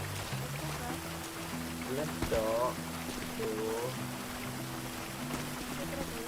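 Steady rainfall patters in the game GTA V during a foggy drive, a constant soft hiss running beneath a voice speaking over it.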